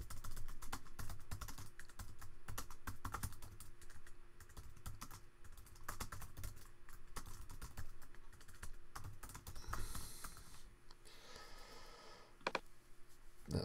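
Soft, rapid clicking of computer keys as someone types a short comment, a steady close patter of keystrokes at low volume with a brief faster flurry near the end.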